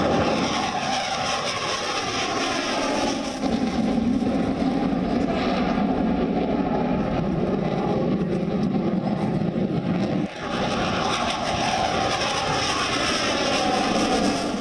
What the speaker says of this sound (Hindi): watch the leader pull up and the wingman split